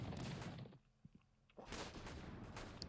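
Artillery fire in a strategy video game, with dense rumbling barrages that drop off into a brief lull with a few small thuds before the heavy firing surges back.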